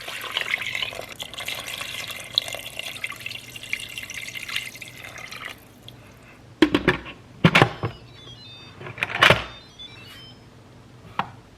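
Water runs into an Instant Pot while birria is being made, a steady pour for about five seconds that gives way to quieter clinks and handling sounds.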